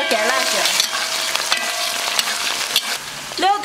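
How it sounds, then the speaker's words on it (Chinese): Scallion, ginger, garlic cloves and dried chilies hit hot oil in a wok for a fish stew, giving a dense, steady sizzle with scraping stirs and a couple of brief squealing tones near the start and end. "锅里倒油，加点葱姜、蒜瓣、干辣椒。"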